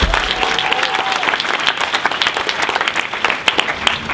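A crowd claps in a dense, sustained burst of applause, loud and close, with no talk over it.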